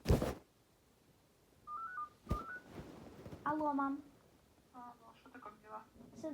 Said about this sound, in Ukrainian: мені мама дзвонить, почекайте